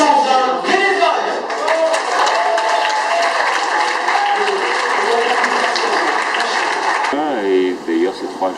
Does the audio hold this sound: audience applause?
yes